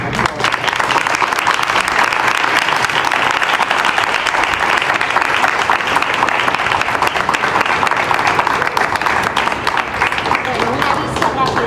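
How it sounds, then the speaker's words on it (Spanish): A lecture audience applauds steadily and loudly after a conversation about symbiosis with Donna Haraway, dense clapping filling the room without pause from start to finish. "quisiéramos darles un aplauso a todos"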